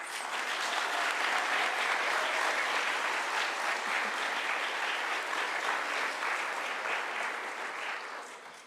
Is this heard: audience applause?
yes